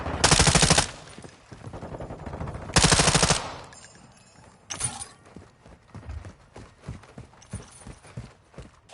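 Gunfire in the mobile shooter Call of Duty Mobile: two loud automatic bursts up front, then a run of lighter, evenly spaced shots, all close and with no talk.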